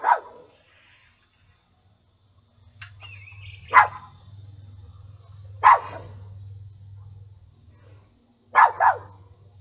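Dogs bark in separate bursts, a single bark then a few sharp double barks, fairly close, over a low steady hum in the background.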